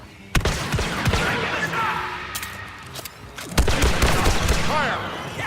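Gunfire in the video game Star Wars: Battlefront 2: sharp, loud volleys of shots and heavy impacts come in two dense bursts, with in-game voices and battle noise running underneath.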